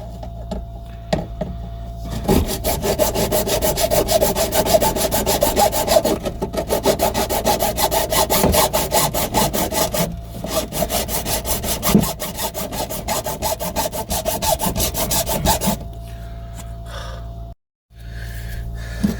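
Loud, close hand sawing through wood in a garden, fast steady strokes, with a short pause midway and a quieter stretch at the end.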